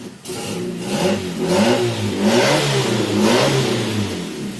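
A Fiat Panda II with a P0352 ignition coil fault being started and revved, its mid-pitched engine rising and falling in steady surges, close and loud throughout with no talk.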